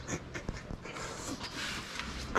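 Dogs pant quickly and softly in a home kitchen, with rhythmic breathing, a few light knocks and some shuffling nearby.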